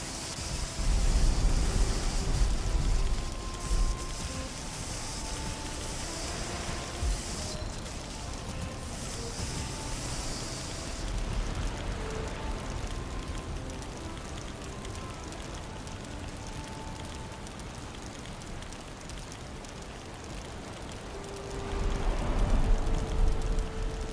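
Steady rain pattering down in the Valheim game world, a constant broadband hiss that swells louder near the start and end, with faint tonal game sounds layered underneath and no talking.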